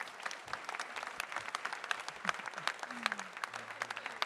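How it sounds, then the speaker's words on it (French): A gathering at a gardening competition event breaks into applause, a fairly distant wash of many hands clapping continuously for several seconds. "Je vais demander à tout le monde de t'applaudir."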